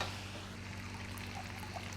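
About half a cup of water trickles into a pot of spiced chicken pulao, a faint, steady pour lasting a couple of seconds against a low background hum.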